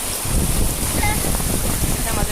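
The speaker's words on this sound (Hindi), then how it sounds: "ये देखें बहुत तेज़ बारिश हो रही है" Heavy rain pours down on a rocky mountainside in Makkah while runoff water streams over the stones, a dense, continuous wash of noise with some wind buffeting the microphone.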